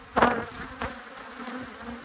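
Honey bees buzz around an open hive at an apiary, a close drone with a few louder passes near the start.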